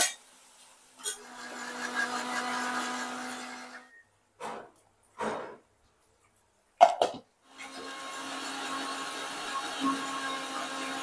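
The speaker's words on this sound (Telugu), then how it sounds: "ఇది మళ్ళీ మిక్సీ పట్టుకుంటా" A kitchen mixer grinder (mixie) grinding onion paste, a steady loud whirring motor in two long runs separated by a few short pulsed bursts and brief pauses.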